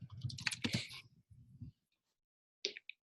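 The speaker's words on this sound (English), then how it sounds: "Maybe erase a couple of words and type it back." Fast bursts of typing on a computer keyboard, loud and dense at first, then a quieter run of keystrokes, a pause, and a final few clicks, heard up close.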